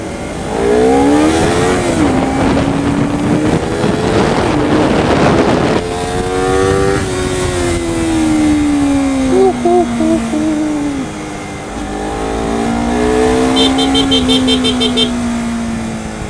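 A Honda CBR250RR motorcycle engine on a test ride, revving with rising and falling pitch and staying loud and close throughout, while someone talks over it.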